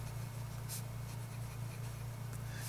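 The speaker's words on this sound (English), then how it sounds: "you can really tell that that is a fine nib when you're writing with this" A fine-nib Endless Creator retractable fountain pen scratches faintly across paper in short strokes, heard close against a steady low background hum.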